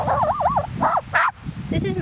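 A magpie mimics a dog, giving wavering warbled calls followed by short sharp bark-like yaps, close and loud, with a voice speaking underneath.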